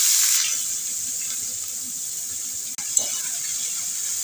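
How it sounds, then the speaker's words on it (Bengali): Chopped onion drops into hot oil already spiced with cinnamon, cloves and cardamom for a thin chicken curry. It gives a steady, close hiss of sizzling that runs throughout, with one brief clatter near the end. "এবার আমি পেঁয়াজ কুচি দিয়ে দেবো।"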